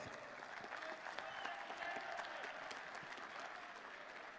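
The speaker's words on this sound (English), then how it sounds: "Ladies and gentlemen, a round of applause to smudger Ross Smith." A darts crowd at the Hungarian Darts Trophy applauds player Ross Smith, a faint, even wash of distant clapping from a large arena audience that holds steady throughout.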